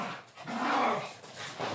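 A dog growls and barks close by, a continuous rough, snarling rumble with a few louder bursts over about two seconds, alone without talk.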